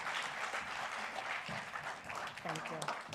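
Audience applause at a government roundtable as the Deputy President comes up to speak, a steady wash of clapping from a crowd that is standing, with a voice briefly cutting through near the end.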